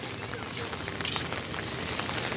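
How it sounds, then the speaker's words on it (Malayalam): Steady rain patters and hisses on surfaces nearby, a constant wash of fine drops with no one speaking. "ഇവിടെ മഴ പെയ്തുകൊണ്ടിരിക്കുകയാണ്"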